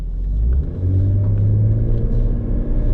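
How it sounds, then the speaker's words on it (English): A car pulls away hard from a stop with a loud, steady low engine roar that holds throughout, close and without voices. "I'm gonna give it gas from a stop so you guys can see out the back."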